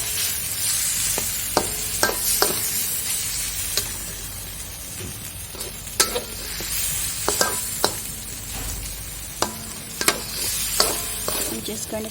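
A utensil stirs whipping cream into a sizzling fettuccine sauce with sambal tempoyak in a pan, scraping and clinking in irregular taps over a steady frying hiss, close and without talk.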